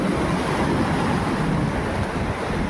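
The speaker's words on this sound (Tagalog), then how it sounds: "Malakas ang alon ha." Strong sea waves surge and crash against a damaged seawall at low tide, a loud continuous roar of surf with wind buffeting the microphone and no pauses throughout.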